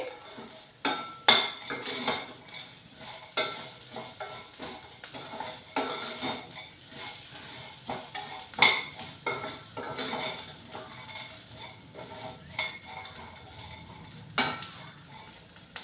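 Ivy gourd curry with peanuts and cashews fries in a pan as a metal spoon stirs and scrapes it, giving repeated clinks over a low, steady sizzle with no voices.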